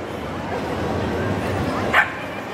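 Maltese poodle crossbreed dog playing with a new friend indoors, a soft steady whimpering yip under room noise, then one short sharp bark near the end.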